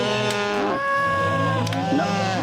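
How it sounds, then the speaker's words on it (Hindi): Several cows moo in long, drawn-out calls, one low bellow running into another, close and loud with no talking, in a village herd setting. "सभी गायें प्रसन्नता में रंभा रही हैं"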